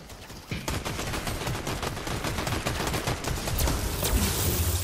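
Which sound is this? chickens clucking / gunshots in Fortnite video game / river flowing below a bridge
gunshots in Fortnite video game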